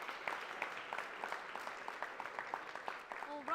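Applause from an audience at an award ceremony, a fairly faint continuous patter of clapping lasting a few seconds, with a voice briefly heard near the end.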